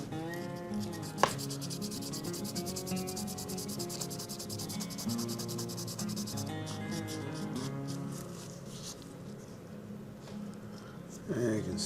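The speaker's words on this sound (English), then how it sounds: "Okay, what do we got? Sandpaper. Alright, let's see what happens." Sandpaper rubs against a Matchbox 37C cattle truck in a steady, continuous scratching that stays close and even throughout, with a faint background hum and no clear talk.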